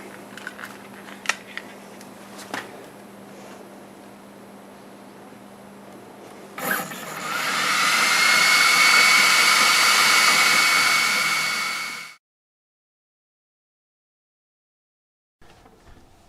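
An Ortur Laser Master 3 laser engraver works on turned wood, giving a steady whirring whine with tonal hum that rises in and holds for several seconds, then cuts off abruptly after soft clicks and faint handling noise.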